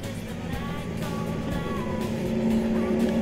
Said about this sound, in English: Green flag racing gets underway with Philippe Ribbens in 4th place in the Dodge Viper, trying to stay out of the ball of spray.